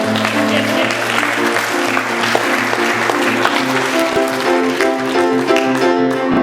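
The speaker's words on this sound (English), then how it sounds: "Give Matt another round of applause all the way in the back here." Audience applause for Matt, a helper from the back of a comedy show at Asbury, a steady wash of clapping mixed with sustained music-like tones throughout.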